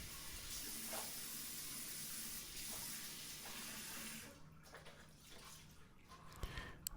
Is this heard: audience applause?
no